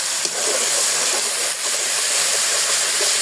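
Ground spice paste of ginger, cumin, garam masala and garlic hitting hot oil with frying garlic, making a loud, close, continuous sizzling hiss that barely wavers, with no voices.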